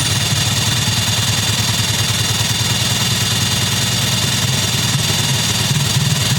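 SHIDOKU SH G2 cordless 3/4-inch impact wrench running at its second speed, giving a loud, unbroken motor drone with a fast, even mechanical pulse that holds steady for over six seconds without talk.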